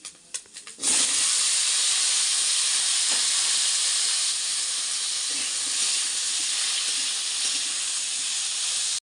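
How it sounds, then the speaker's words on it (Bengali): Panch phoron spices hit hot oil for a chutney, bursting into a loud, sudden hiss that holds steady and close for about eight seconds before cutting off. "চাটনিটা বসাবার জন্য তেলে একটু পাঁচফোড়ন দিয়ে দিলাম।"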